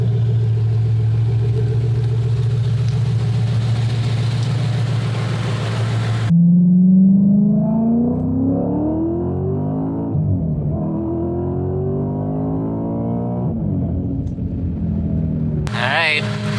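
A supercharged car engine on E85 fuel rumbles steadily, then revs up with a rising pitch and settles into a varying drone, loud and close.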